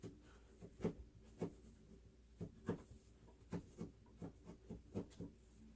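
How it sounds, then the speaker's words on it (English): Knife slicing around the core and seeds of an apple, a series of soft, irregular cutting taps and scrapes, close and quiet with no talking. "you take it and make the round and cut around the core and the seeds"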